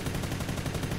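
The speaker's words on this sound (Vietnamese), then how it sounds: "Bắn nhau ghê quá." Continuous rapid gunfire in PUBG New State Mobile, a steady fast-rhythm stream of shots at moderate loudness throughout, with no talk.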